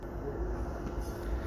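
A train sits at a station platform, heard as a faint, steady low rumble with diffuse background noise and no distinct events.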